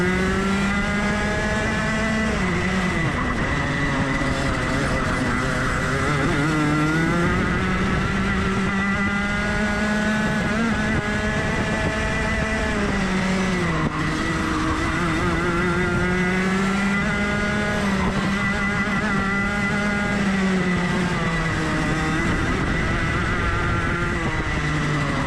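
Race car engine in a racing video game on a qualifying hot lap, a loud constant drone rising and falling in pitch through gear changes and corners for the whole stretch, with no voices.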